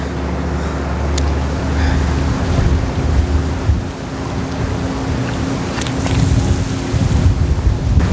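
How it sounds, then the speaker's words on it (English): Strong wind blows at a fishing spot, a loud, continuous roaring rush with gusts that buffet the microphone, alongside a low rumble like water or waves. "The wind's so strong."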